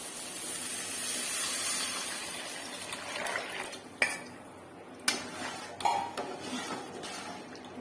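Mutton blood fry sizzles in a pan with a steady hiss, followed by a few distinct metallic scrapes and clinks of a spoon stirring against the pan.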